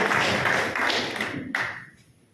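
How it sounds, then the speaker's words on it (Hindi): At a gathering of private doctors, an audience claps to welcome a speaker, a dense burst of many hands close by that thins into a few scattered claps and fades out. "जोरदार तालियों से इनका स्वागत होना चाहिए।"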